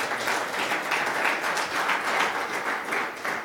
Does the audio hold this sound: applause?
yes